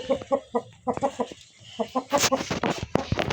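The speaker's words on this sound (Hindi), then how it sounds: "बहुत प्यारा मुर्गा खूबसूरत" A rooster clucks in short rhythmic bursts, close and clear, followed by louder, harsher squawking calls near the end.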